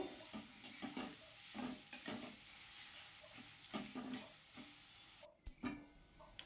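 Onions fry in a pan with a little sugar for a chicken and capsicum dish. A soft sizzle sits under repeated close scraping strokes of stirring, with no talk.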